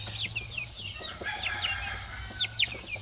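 Native chickens in a full breeding pen, with several hens clucking and a rooster's calls rising over a steady low farm hum, the bird sounds close and repeated throughout.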